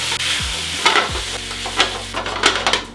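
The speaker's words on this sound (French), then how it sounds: "On fait fondre le beurre et on fait cuire l'ail" Garlic cooks in melted butter in a pan with a close, steady sizzle and popping crackle, broken by a few clattering stirs. A low tone underneath drops in pitch twice early on. There is no talk.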